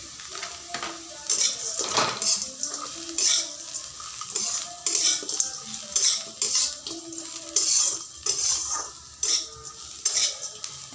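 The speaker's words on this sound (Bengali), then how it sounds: "এখন আমি ম্যাগিটাকে এভাবে প্যাকেটে" Maggi noodles go into a pan of fried onions and carrots, with close sizzling and repeated scraping and clinking of a utensil stirring in an uneven rhythm.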